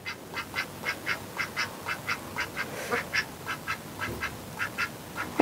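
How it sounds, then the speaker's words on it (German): A duck quacks repeatedly in a quick, steady series of nasal calls, fairly close, in a kitchen garden, with no talking. "Die Fortpflanzung der Enten."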